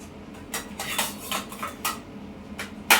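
A spoon stirs milk heating in a metal pan, scraping and clinking against the sides in several close, uneven strokes, ending with one sharp metallic knock.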